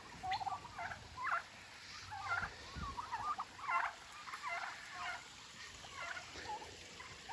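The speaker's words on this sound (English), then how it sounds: "Turkeys like the creeks." Several wild turkeys gobble and cluck near a creek after rain, a string of short rising calls at mid-distance, fairly clear over a low background hiss.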